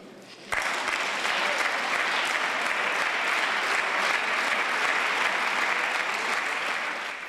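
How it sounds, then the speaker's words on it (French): Sustained applause rises from the majority benches in a parliament chamber, a loud, dense ovation that starts abruptly and continues steadily without speech. "des applaudissements nourris sur les bancs de la majorité"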